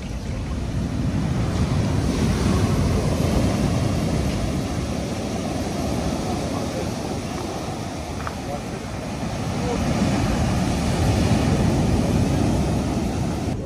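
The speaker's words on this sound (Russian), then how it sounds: "Море все волнуется." Rough sea waves surge and break continuously on a beach where swimming is closed, a broad roaring wash with wind buffeting the microphone.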